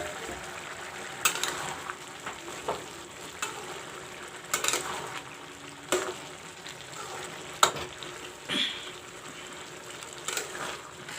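Green moong and chana curry cooks in a covered pan with a soft continuous sizzle, broken by occasional sharper clinks and stirring knocks, close and fairly quiet with no talking.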